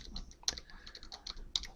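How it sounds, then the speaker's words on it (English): Close, quiet typing on a computer keyboard while entering command-line text, irregular soft key taps with a few sharper clicks. "it's just more typing"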